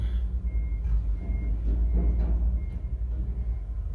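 Repeated forklift reversing beeps sound faintly over a low rumble of heavy machinery and truck engines nearby at a loading dock.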